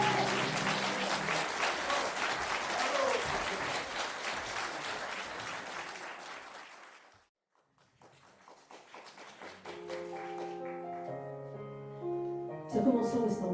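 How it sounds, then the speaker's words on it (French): Applause at a Telethon 2024 performance fills the first seven seconds with dense, fairly quiet clapping. It then drops to near silence, and scattered taps follow with music coming in underneath. "Vous pouvez l'applaudir."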